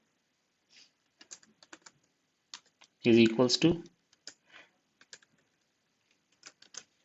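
Computer keyboard typing while writing an SQL query in Entity Framework Core: sparse, close key clicks in short bursts, paused briefly while someone speaks.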